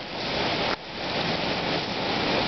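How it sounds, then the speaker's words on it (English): Heavy storm rain pours down steadily near a flooded parking lot, making a dense, loud hiss. It continues with one brief dip in level. "And the rain is still hitting me in the feet."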